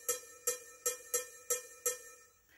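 A cowbell struck six times in a steady, even rhythm, each clanking metallic hit ringing briefly before the next, clear and close with no talking.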